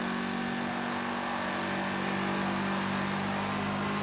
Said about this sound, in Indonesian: Bisa ngeblur knalpotnya. Ngeblur suaranya, guys.